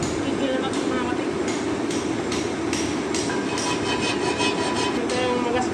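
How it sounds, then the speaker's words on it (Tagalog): A hand file works a cracked wheel rim, giving a steady, dense rasping noise with faint repeated scraping strokes, close and continuous throughout. "Kikil na natin mga katig."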